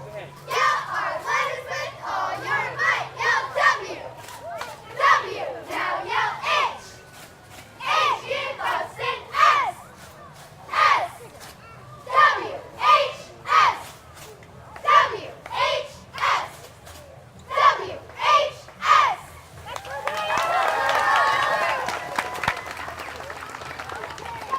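A high school cheer team at a town parade shouting rhythmic cheers in short loud bursts, each separated by brief pauses, with crowd noise swelling near the end.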